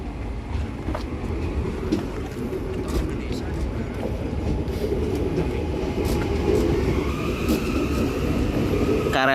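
An electric commuter train (KRL) departs near Jakarta, rumbling steadily nearby with broadband rolling noise and occasional clacks, a high squeal emerging toward the end.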